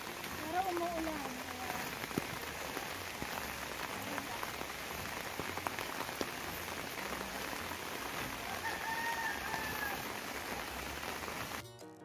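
Steady rain patters on a surface throughout, with a cat meowing a few times faintly in the background.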